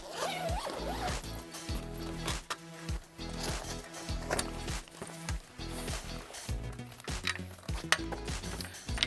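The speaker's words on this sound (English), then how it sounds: "Begin by removing your light stand from the bag." A zipper on a lighting equipment bag is pulled open to take out a light stand, close and clear, with a long rasping zip followed by handling rustles and thumps.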